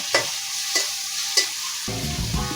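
Chopped onions frying for restaurant-style fried rice, with three sharp utensil clinks against the pan over a soft sizzle, then a louder, busier frying burst in the final second.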